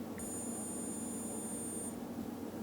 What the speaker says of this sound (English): You have this wonderful little noise for the battery check